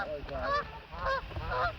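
Several geese honk loudly in quick back-and-forth calls, close by, over a noisy background.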